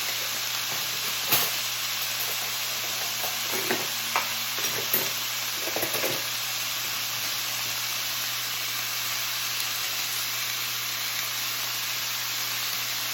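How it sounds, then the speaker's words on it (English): Chicken pad thai stir-fries in a pan with a constant, bright sizzling hiss, broken by a few sharp scrapes and clatters of stirring early on, then settling into a steady fry with no talking. "we're just going to stir fry this a bit"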